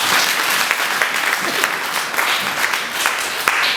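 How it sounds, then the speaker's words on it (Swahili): Congregation applauding during a Sunday church service, a steady dense wash of hand claps from many people at moderate loudness with no talking over it. "Simpige makofi"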